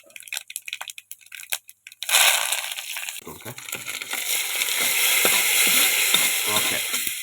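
Mustard seeds, fenugreek and dried chillies hit hot coconut oil in a pan, bursting into a loud, steady sizzle with crackling pops that builds and holds to the end, after a few sparse clicks and knocks at the start.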